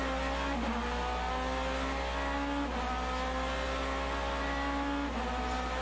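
GT race cars battle during the Sebring 12 Hours, their engines roaring loudly and continuously, with rising revs and gear shifts repeating every couple of seconds, under a dense wall of track noise.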